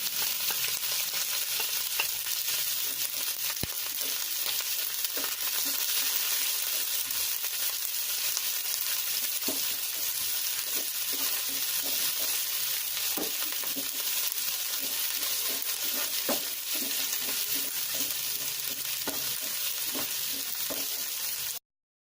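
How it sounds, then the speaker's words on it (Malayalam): Curry leaves and chopped small shallots fry in oil in a pan for an okra pachadi, giving a steady, even sizzle with occasional soft stirring taps throughout and no voices. "അതിൻ്റെ കൂടെ തന്നെ കറിവേപ്പിലയും ചെറിയ ഉള്ളി അരിഞ്ഞതും ചേർത്ത് നന്നായി ഒന്ന് ഫ്രൈ ചെയ്തെടുക്കാം."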